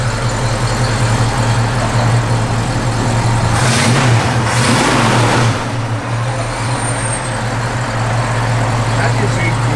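A 1966 Ford Mustang Convertible engine idling with a deep, steady rumble, then a brief rev swelling and settling back, close and loud, with people talking nearby.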